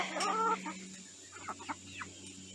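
Five-week-old chicks clucking and peeping near at hand, a burst of close calls at first and then softer, scattered chirps.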